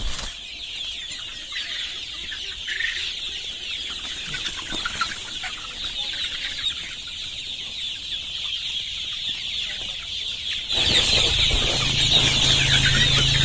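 A flock of Sonali chickens on a poultry farm in West Bengal clucks continuously, with many birds overlapping at moderate distance. The sound grows louder and denser toward the end.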